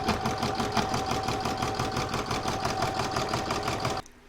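A sewing machine runs steadily for about four seconds, stitching the outline of a fabric tissue holder's back, with a fast even needle chatter that stops abruptly near the end.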